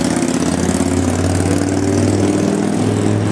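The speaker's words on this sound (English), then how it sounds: "You can hear the bikes in the background." Several motorcycles idle together at a bikers' night at the Vortex, a steady low rumbling drone with a constant throb that stays loud and even throughout, with no talking.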